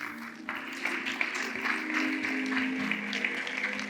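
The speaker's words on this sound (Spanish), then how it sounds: "Un fuerte aplauso." Audience clapping for a speaker at an AI avatar workshop, a dense burst of applause that builds and carries on steadily, with a faint voice mixed in underneath.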